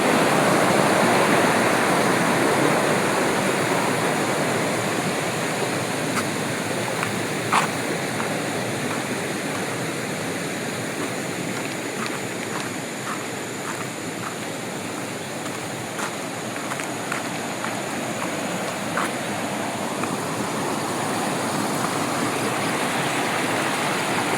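River rapids flowing down from the hills at Jeram Toi rush as a steady, loud broadband roar of churning water that stays constant throughout, with faint clicks on top and no talking.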